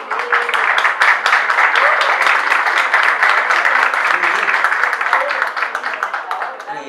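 A church audience applauds after a play, a steady wash of clapping that holds for several seconds before thinning slightly at the end, with some voices mixed in.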